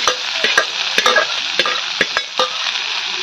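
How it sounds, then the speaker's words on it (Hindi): Taro (arbi) leaf greens tipped into a browned, hot tadka and stirred with a spatula for a village-style saag, giving a steady loud sizzle broken by repeated sharp scraping knocks of the stirring, with no talk. "तड़का हमारा ब्राउन कलर हो जाए इसमें मैं साग डाल देती हूँ।"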